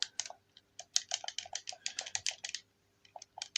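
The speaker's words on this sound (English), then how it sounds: "Ooh, very clicky. I love controller sounds." Game controller buttons, triggers and bumpers clicking in quick, uneven bursts, crisp and close-up with brief pauses, in a quiet late-night setting.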